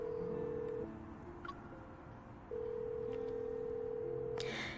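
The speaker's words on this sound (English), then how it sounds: "I pause and try calling him again." Phone ringing in the video game Love and Deepspace: a steady electronic ring tone with sustained tonal beeps, alternating pitches in a repeating pattern, loud and clean with no talking.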